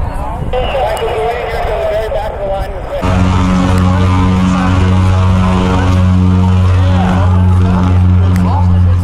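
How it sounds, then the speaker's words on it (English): Propeller-driven tailwheel aircraft flying at the inaugural Columbus air show, a loud steady engine drone with strong tonal hum after a shift in pitch, continuous over crowd murmur and talk. "The conventional tailwheel aircraft, as we call it."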